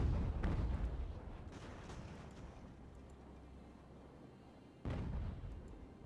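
Naval cannon fire from sailing warships in the age-of-sail battle game Ultimate Admiral: Age of Sail, with heavy low booms and a rumbling roll early on and a second sharp blast near the end, fairly distant, no talk.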